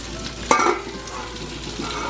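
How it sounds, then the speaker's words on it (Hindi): Fish frying in a home kitchen pan gives a steady, close sizzle with a brief louder burst of spitting and scraping near the start, then settles into an even crackling hiss. "और ये यहाँ पे हो रहा है मेरा फिश फ्राई"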